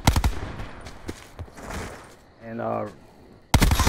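Bursts of MX9 submachine gun fire in Call of Duty, fast crackling shots opening and closing the moment, with someone speaking between them.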